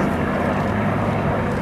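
A Curtiss Hawk fighter's engine drones loudly and steadily at an air show at Duxford, a continuous close propeller-engine roar with no talk.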